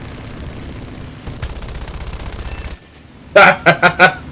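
In War Thunder, a Swordfish Mk I biplane's 7.7 mm machine gun fires a few short, sharp bursts near the end, following a low steady engine drone; the shots are close and distinct.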